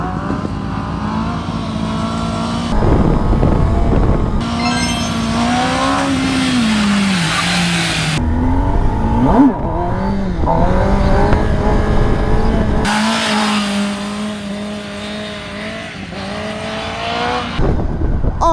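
A Kawasaki motorcycle engine revs hard and rises and falls in pitch while being ridden, with bursts of acceleration, short drops and a tire skid or two, loud and close throughout.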